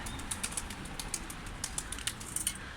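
Pigeons flapping their wings in flight around a loft, a series of quick, sharp wingbeat claps and flutters, faint and somewhat distant over a quiet outdoor background.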